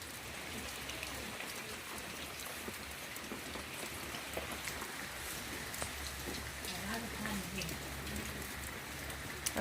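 Steady monsoon rain pours continuously in a village, a dense even hiss of drops on surfaces throughout.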